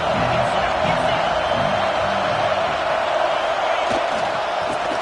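A stadium crowd in College Football 26 roars steadily and loudly throughout, a dense wall of cheering with scattered whoops and shouts and no break.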